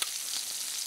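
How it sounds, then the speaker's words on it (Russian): Pork pieces fry in oil in a pan, giving a steady, close hiss of sizzling fat that stays even through a brief moment with no voices. "И потихонечку начну кувыркать мясо на масле."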